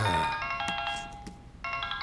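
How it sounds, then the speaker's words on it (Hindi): A mobile phone ringtone chimes in bright electronic tones, starting loud, fading briefly, then sounding again near the end, with no talk over it. "किसका फोन है?"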